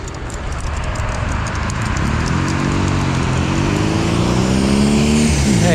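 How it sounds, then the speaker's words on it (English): Traffic at a street intersection with a stop sign, a motorbike and a car passing: loud, constant rumble with a close engine rising in pitch as it drives by, mixed with heavy wind noise. "There's a motorbike and a car."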